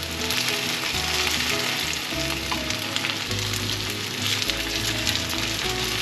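Lotus root meat patties coated in sweet potato starch sizzle steadily in oil in a pan over medium-low heat, a continuous close crackle with occasional small pops and scrapes.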